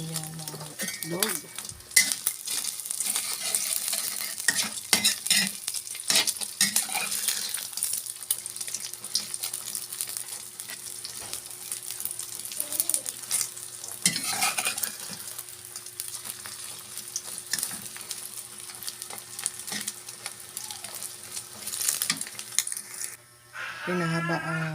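An egg sizzles and spatters while being stirred in a pan with sponge gourd (patola) in a countryside kitchen, a steady close sizzle with frequent metallic scrapes and clinks of the utensil.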